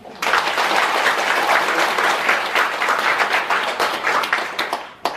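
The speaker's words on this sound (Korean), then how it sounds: "자, 한번 박수 한번 보내주시고." Audience applause after a lecture at a temple's Wednesday special talk on the Lotus Sutra, a steady burst of clapping sustained for about five seconds then trailing off with a final few claps.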